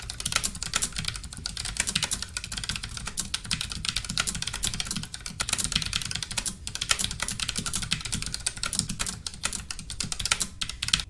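Thin-keyed keyboard with red switches being typed on, producing a steady, dense stream of close, crisp keystrokes that continues without pause and with no voices.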